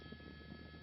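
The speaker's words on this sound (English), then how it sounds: "helicopters are here" Helicopters flying over a house fire in the Mount Washington area, a continuous distant rotor and engine drone, steady and faint.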